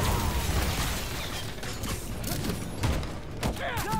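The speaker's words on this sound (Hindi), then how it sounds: "हर तरफ से फायरिंग हो रही भाई" Gunfire coming from all sides in Marvel's Spider-Man 2, a busy, continuous mix of rapid shots, mechanical clatter and impacts with a few brief whooshes, steady and fairly loud.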